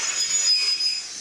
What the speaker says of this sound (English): I've even got carriage brake squeal here.